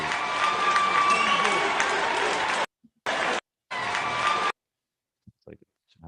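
Poll watchers clapping at a ballot counting center, a dense burst of crowd applause that cuts out abruptly twice, then near silence with a few scattered faint clicks.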